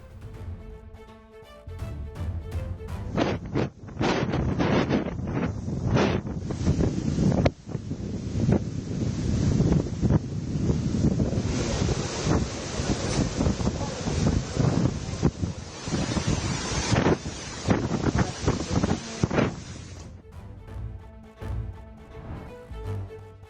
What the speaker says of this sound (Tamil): ஒடிசா மாநிலம் கோபால்பூர், கஞ்சம் உள்ளிட்ட கடலோர பகுதியில் பல அடி உயரம் எழும் ராட்சத அலைகள்.